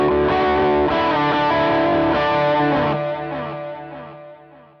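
Guitar chords through a delay pedal with feedback set midway, several echoes smearing together into a dense wash that thins out and fades over a few seconds, with no talking.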